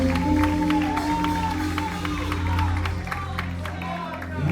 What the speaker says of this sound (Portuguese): Você que pode aplaudir a Jesus, mas glorificando a presença dele.